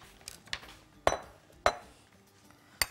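Ceramic bowl and a kitchen knife clink and knock against a counter as they are set out for a beet and herring salad, several sharp separate clinks spaced about half a second apart, close and clear with no talking.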